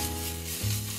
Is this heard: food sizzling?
yes